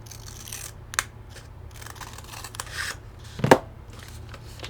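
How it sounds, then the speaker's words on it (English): Scissors cut paper along a crease for an origami ribbon bow, a few sharp close snips and crisp crinkles scattered among faint rustling, with one louder cut near the end. "we want to take a pair of scissors and cut along this crease over here"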